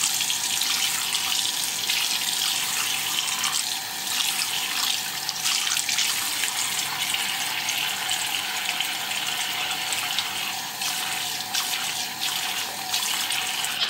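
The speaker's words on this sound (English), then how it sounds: "So I'm just going to get them wet under running water" Makeup brushes are rinsed under a running tap, giving a steady, fairly loud rush of water splashing without a break for the full stretch, with no speech.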